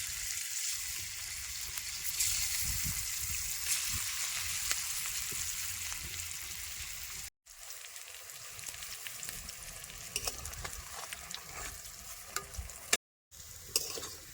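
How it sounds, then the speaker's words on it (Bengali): Cauliflower dhoka fry in a pan of oil, giving a continuous crackling sizzle with frequent stirring clicks and scrapes. The sizzle drops out briefly twice, and there is no speech. "বাকি সব ধোকাগুলারে আমি একইভাবে লাল লাল করে ভাজে নেবো।"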